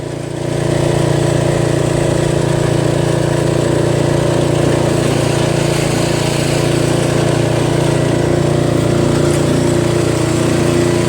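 A Briggs 8HP engine on a Toro Wheel Horse Recycler riding mower runs steadily at close range with a constant droning hum and no speech.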